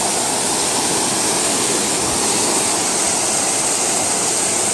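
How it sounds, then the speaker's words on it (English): Wilderness waterfall roars as a constant broadband rush, loud and close, with no voices. "Awesome, amazing waterfalls right here."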